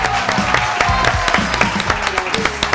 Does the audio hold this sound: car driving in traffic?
no